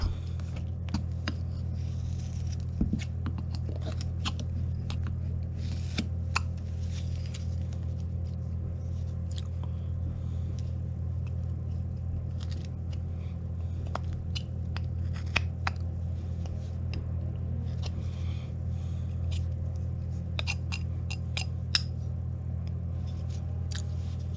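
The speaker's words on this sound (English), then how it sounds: "I'm gonna deepen this stop cut in here at the feet" A knife deepens a stop cut at the feet of a carved wooden cartoon pirate, heard as faint, scattered ticks and small scrapes over a low, steady background hum.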